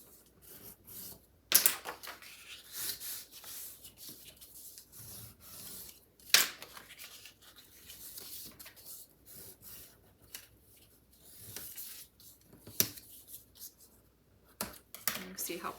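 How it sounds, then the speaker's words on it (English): Paper being folded and burnished along three score lines in a papercraft project: soft, intermittent rubbing and scraping strokes with a few sharper crinkles, close up, under a person talking. "go ahead and fold and burnish on those 3 score lines"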